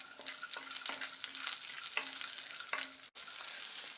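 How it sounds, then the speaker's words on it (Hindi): Pistachios and raisins fry in ghee with a steady, close crackling sizzle, broken by a few spoon scrapes and one sudden brief dropout near the end. "इस बाकी बचे हुए घी में हम डालेंगे पिस्ता और किशमिश, और इसे भी हम 1 मिनट भून के तैयार करेंगे"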